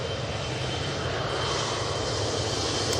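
An Ethiopian Airlines jet airliner takes off from Manchester Airport, its engines giving a loud, continuous roar that swells slightly toward the end, with no speech.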